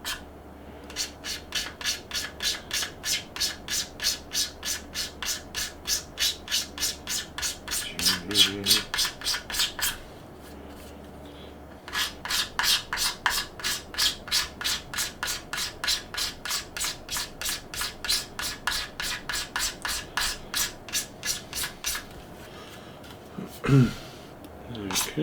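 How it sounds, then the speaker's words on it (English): Scraping a scale plastic model down to level: rhythmic back-and-forth rasping strokes in two long runs, close and fairly steady, with a short pause and brief voiced sounds between. "Okay, so I'm going to scrape. See if we can get this down to a nice level."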